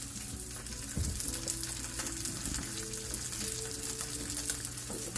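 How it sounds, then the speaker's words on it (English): Lamb slices for cheat lamb gyros sizzle loudly and steadily in a frying pan, with a soft thump near the start as the slices are flipped, then continuous crackling spatter. "Flipping my lamb slices."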